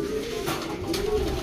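Pigeons give a soft, continuous low coo close by, a steady throaty murmur lasting the whole moment with no talking.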